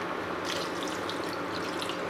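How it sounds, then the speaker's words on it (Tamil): Water poured into a crab masala curry in a cooking pot, a steady close trickle and splash lasting about two seconds with no talking. "இதில் பாருங்க இந்த 1 கிளாஸ் அளவு தண்ணி"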